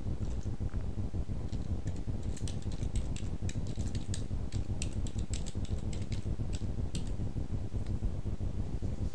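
Steady typing on a computer keyboard, a rapid run of light key clicks at close range over a soft background hum, continuing without pause and with no talking.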